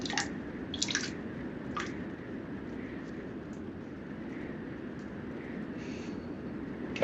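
A waterfall rushes steadily outdoors in the wind, a dense, even roar with scattered splashes and drips on top, held at a constant level throughout with no talking.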